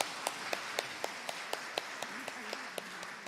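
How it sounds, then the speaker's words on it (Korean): A church congregation claps together at a Sunday afternoon praise service, a moderate, fairly even patter of hands with faint voices murmuring underneath, lasting a few seconds. "우리 박수 치겠습니다"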